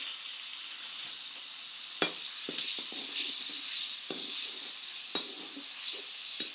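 Bay leaf and spices sizzling in hot oil in a pan, a constant bright hiss broken by sharp clinks and scrapes of a utensil stirring, close and fairly loud.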